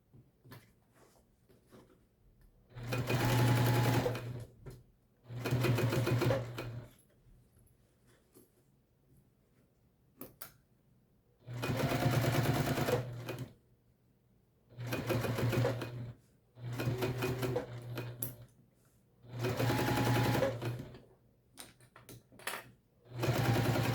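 A sewing machine bastes a zipper onto a tote bag in repeated loud bursts of rapid stitching, each a second or two long, separated by quiet pauses, with no talking.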